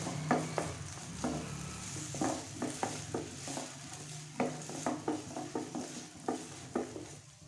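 Diced potatoes cooking in a pan over a medium flame, softly sizzling as a utensil stirs and taps the pan in an irregular series of light clinks, close and with no talking.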